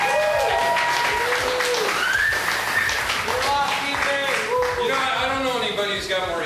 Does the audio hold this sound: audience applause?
yes